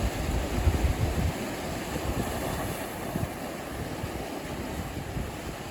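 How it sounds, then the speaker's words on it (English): Steady roar of sea waves washing onto the shore at Sheringham, with a constant broadband rush and some wind buffeting, no voices. "listening to the waves"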